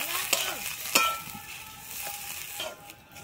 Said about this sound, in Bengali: আমি ধনেপাতা কুচিটা দিয়ে আবারও আলুর সঙ্গে ভালোভাবে মিশিয়ে নেব একটু